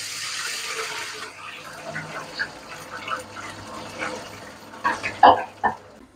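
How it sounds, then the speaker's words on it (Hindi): Water is poured into a cooking pot holding onions browned with cumin, giving a hissing splash and sizzle that settles into bubbling and gurgling, with a few louder splashes toward the end. "अब इसमें मैं ये पानी शामिल करूँगी।"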